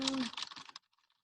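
A short burst of rapid keystrokes on a computer keyboard clatters nearby for under a second, starting under a brief voice, then a few faint scattered taps follow.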